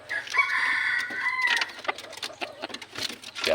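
A red junglefowl gives a short crowing call up close, followed by a few clucks and light rustling as it is let out of its cage.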